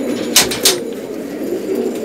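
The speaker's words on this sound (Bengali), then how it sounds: "এখানে আছে সব ধরনের কবুতর" Pigeons in a loft give a low continuous cooing murmur, close and fairly loud, with a couple of brief brighter noises like wing flutters or scuffs early on.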